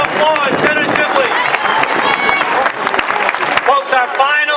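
A crowd at an outdoor anti-in-state-tuition rally in the cold applauds Senator Shibley with loud, dense clapping and cheering, while voices shout and talk throughout.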